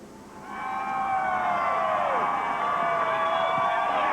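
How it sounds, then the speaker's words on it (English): A large concert crowd at a rock show in Halifax lets out a rising, sustained cheer with high whoops and shouts layered together, swelling in the first second and holding steady and loud. "Here comes the cheer."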